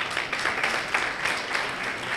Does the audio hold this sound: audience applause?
yes